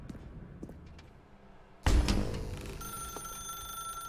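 Sudden loud ringing of a telephone in The Stanley Parable, a sharp bright burst that settles into a sustained electronic ring after a quiet stretch of faint room sounds.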